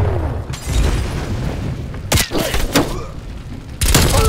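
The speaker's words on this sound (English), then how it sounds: "Stun grenade out." A stun grenade goes off in Call of Duty Black Ops Cold War team deathmatch, a sharp boom followed by a second burst and ringing gunfire-like cracks, loud and close amid battle noise.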